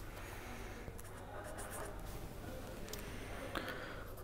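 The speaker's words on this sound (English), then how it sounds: "Let me write that here." Handwriting scratches faintly and continuously in quiet strokes for a few seconds, with soft irregular ticks and no speech.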